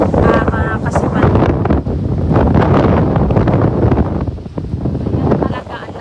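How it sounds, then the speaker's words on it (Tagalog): Strong typhoon wind during Typhoon Tino in a Philippine province under signal number 3, roaring loudly and steadily across the microphone as a dense, continuous buffeting rush. "Ayan talaga, ang lakas na talaga ng hangin."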